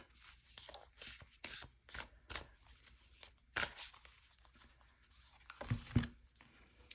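A deck of oracle-size cards being shuffled, giving repeated soft riffling and slapping bursts in an irregular rhythm, close and fairly quiet with no voices.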